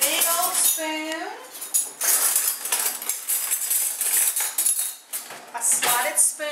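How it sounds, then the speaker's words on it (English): A big slotted spoon tosses cabbage salad dressed with distilled white vinegar in a bowl, giving repeated close metallic clinks and scrapes against the dish, with a voice briefly heard alongside. "a slotted spoon, and then I'm just going to toss it."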